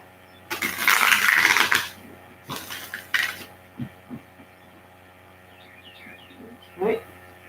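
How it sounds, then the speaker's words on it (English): A close riffle of tarot cards being shuffled, a dense papery flutter followed by a few lighter taps and slides of cards. "One more shuffle."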